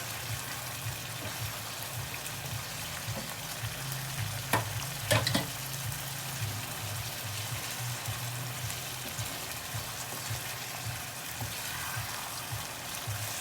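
Meat fries with spices for tinda gosht, a steady close sizzle that hisses evenly throughout, with a brief clatter of a spoon against the pot partway through.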